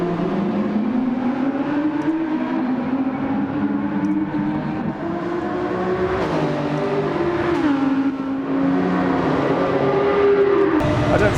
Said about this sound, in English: I don't think I'll ever get bored of the Audi R8. Love the noise this thing makes.